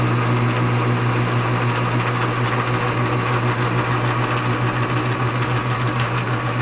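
Steel shock bolt for a race car turned on a lathe at 200 RPM, a steady motor hum with light whirring and faint cutting scrapes, continuous and close.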